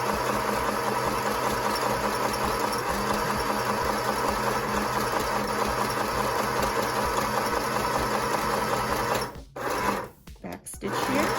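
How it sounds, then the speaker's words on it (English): A sewing machine runs a long straight seam down a fabric face mask, a steady close mechanical whir that holds evenly, then stutters and cuts out in short bursts near the end. "I'm just going to sew one straight line all the way down to the bottom."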